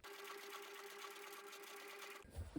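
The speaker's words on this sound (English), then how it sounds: "My machine is not liking this, it's skidding." A domestic sewing machine runs steadily through wallet fabric with a fast, even whirring hum that stops abruptly near the end, followed by a brief clunk.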